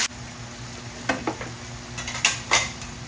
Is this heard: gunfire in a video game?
no